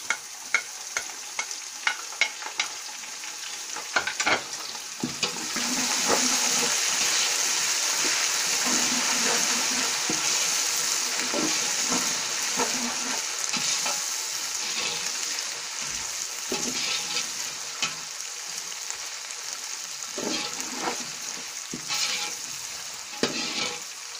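Ginger garlic paste frying in a pan for vegetable pulao, a loud continuous sizzle that swells after a few seconds, with intermittent scraping strokes of stirring throughout.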